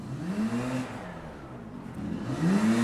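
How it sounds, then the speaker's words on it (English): A noisy motorbike engine revs on a street in France, rising and falling in pitch over a couple of seconds, fairly close and alone with no talking. "it really is a motorbike."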